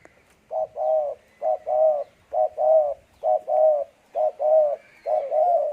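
A spotted dove coos in a series of close, loud phrases, each a short note followed by a longer rolling coo, repeated about six times with brief pauses between them, with no other sound around it.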